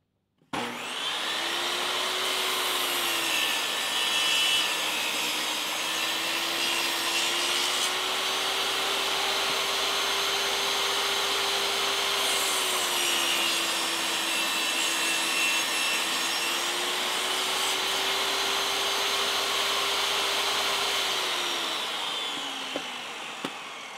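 A table saw cuts wood pieces into rabbet-jointed notches in a workshop, giving a loud, continuous motor whine that dips and rises slightly under load for over twenty seconds, with no talking.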